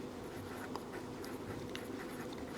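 Chalk or marker writes on a board during a class 12 maths lesson on differential equations, a steady scratchy stroking texture with faint taps, moderately quiet over room noise.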